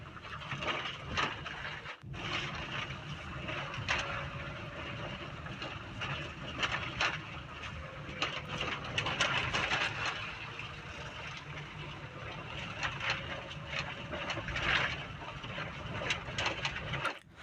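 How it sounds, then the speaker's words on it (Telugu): A Maruti Swift 2021 cruises on a tar road at about 1500 rpm. The cabin carries a steady, muted engine and road rumble with a soft wind hiss throughout, and no one speaks. "ఇంజన్ నాయిస్ అయితే చాలా తక్కువ ఉంది క్యాబిన్ లోకి"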